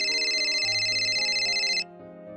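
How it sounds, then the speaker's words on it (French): A phone rings with a bright, steady electronic tone over a soft melodic jingle, the ring cutting off after about two seconds while the tune continues. "mon téléphone s'est mis à sonner."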